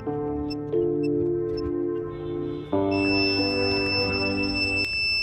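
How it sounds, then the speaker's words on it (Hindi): A Livguard home inverter sounds a continuous low-battery warning after shutting off, a steady electronic tone with stepped shifts in pitch and high beeps layered on top, loud and close with no talk. "लिव गार्ड के साथ लगा हुआ इन्वर्टर भी लो बैटरी देकर ऑफ हो चुका है लो बैटरी की बीप लगातार आ रही है"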